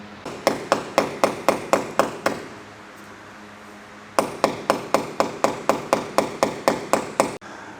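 Two bursts of sharp, evenly spaced hammer blows knocking a wall plug into a wall, about a dozen each, separated by a short pause; close and loud with ringing impacts.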